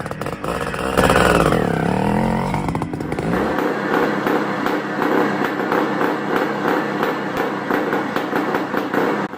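A CZ 400 two-stroke motocross scrambler engine: a loud, raw, buzzing exhaust note that rises and falls with revving, then settles into a rapid pulsing idle-like drone.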